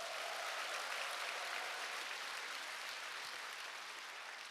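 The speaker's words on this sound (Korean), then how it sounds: "박수를 보내주시기 바랍니다" Audience applause at a Korean business seminar on stage, dense and steady throughout, with no voices rising above it.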